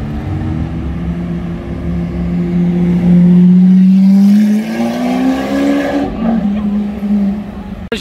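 Lamborghini Aventador supercar passing on a Monaco street, a loud engine note rising in pitch as it nears and goes by, with traffic and street noise around it.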